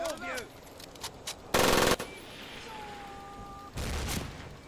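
Machine gun fire in the Medal of Honor Pacific Assault video game, two loud close bursts of rapid automatic shots separated by quieter battle ambience with other distant shots.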